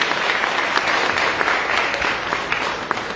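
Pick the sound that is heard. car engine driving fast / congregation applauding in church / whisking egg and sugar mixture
congregation applauding in church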